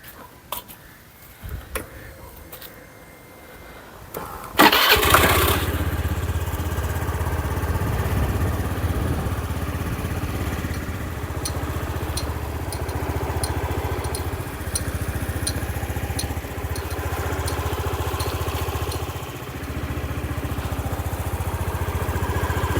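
A Honda Dio 110 scooter engine sputters and catches after a few seconds of quiet, then settles into a steady, continuous idle close by.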